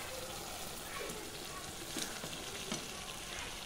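Chicken and spice masala frying in oil in an apple and mango-leaf chicken dish, a faint steady sizzle with light stirring scrapes as the masala catches on the pan bottom.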